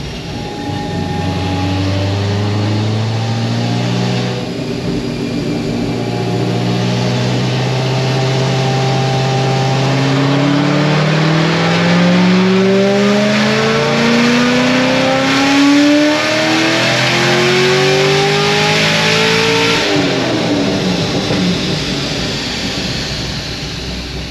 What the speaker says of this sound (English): Tires are spinning.